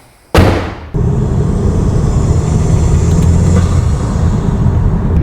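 An Audi A6 with an EA888 engine fitted with a GFB VTA blow-off valve gives a sudden loud burst, then settles into a steady, heavy, close roar that continues to the end.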